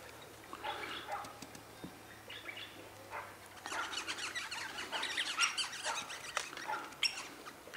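Wild birds at a backyard feeder in Loch Sport chirp and twitter faintly, with scattered calls building into busier chirping in the second half, alone without talk.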